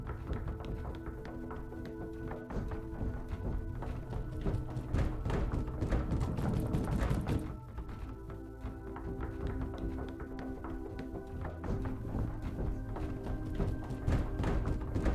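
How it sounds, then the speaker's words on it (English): Repeated knocking or footstep thuds in the video game Pathologic, a steady tapping rhythm under dense droning game music throughout. "the knocking or the footstep is driving me insane"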